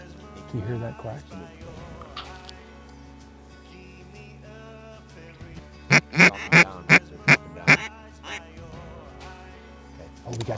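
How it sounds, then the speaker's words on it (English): Ducks near decoys at a Wyoming hunt give a loud run of about seven rhythmic quacks mid-clip, preceded by scattered calls, with a low steady background hum. "Can you hear that quack?"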